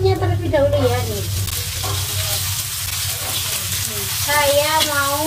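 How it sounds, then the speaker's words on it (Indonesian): Spice paste and peanuts stir-fried in a pan give a steady, fairly loud sizzle, with scraping stirs, running beneath a voice with tonal, voice-like sounds throughout. "Saya tumis terlebih dahulu."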